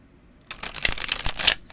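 A regular-size Disney Alice in Wonderland tarot deck is riffled and shuffled by hand, a brief, close burst of crisp, smooth card flutter after a moment of quiet.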